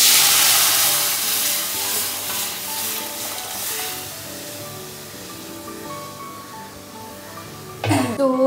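Onion, chili and radhuni seeds sizzle in hot oil as a tempering for dal, a loud bright hiss that is strongest at first and then settles, with a sharp clatter near the end.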